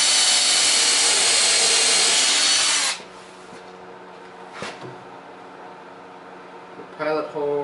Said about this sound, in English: I've measured it and made marks so that I'm drilling into the right spots from the back.